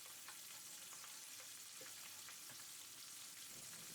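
Vegetarian dish with fermented red bean curd stir-fried in hot oil, giving a steady, even sizzle and crackle that runs the whole time, fairly quiet and close, with no talk.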